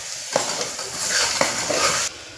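Food ingredients being mixed in a home kitchen, a soft continuous scraping and hissing with a couple of sharp knocks from the utensil against the pot, close by.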